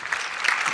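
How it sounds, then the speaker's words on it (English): Brief burst of audience applause at a global health keynote discussion, a dense steady clatter of clapping lasting under a second with no talk over it. "Applause."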